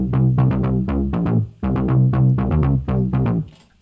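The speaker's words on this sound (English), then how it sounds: "In this video, I'm going to show you how to make a cyberpunk bass." A cyberpunk-style bass synth pattern built in Vital pulses in a steady, punchy rhythm of thick, buzzy notes, heard alone with a short pause midway.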